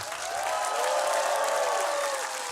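An audience at a Kyiv comedy show breaks into steady, full applause, a dense wash of clapping that holds for a few seconds without talk.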